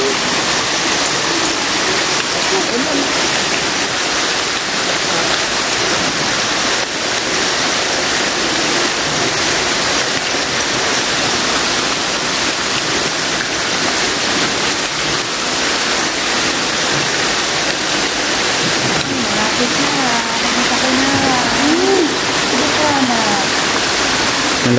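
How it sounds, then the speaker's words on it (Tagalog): Water pouring down from above inside an underground river cave, a loud constant rushing roar like a small waterfall that fills the whole space, with voices talking beneath it. "Lumalabas yung tubig sa taas."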